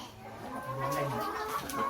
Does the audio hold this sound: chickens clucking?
yes